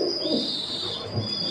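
A pair of white Beauty Homer pigeons coos in a loft, giving low, steady, throaty calls at close range with no talking.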